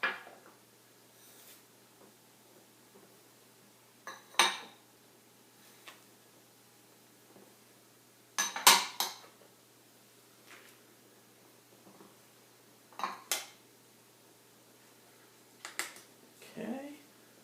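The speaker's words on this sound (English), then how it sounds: "we're going to just take ingredients and put them in the bowl" Dry bath tea ingredients such as citric acid, baking soda, colloidal oatmeal and French green clay being put into a bowl, heard as scattered faint taps, clicks and brief rustles with long quiet gaps between them.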